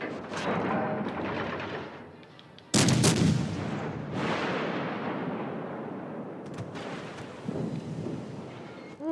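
The cruiser Baltimore firing HE shells in a naval video game: loud booming salvos, one heavy blast around midway, each followed by long rolling rumbles that overlap like distant thunder, with no talking.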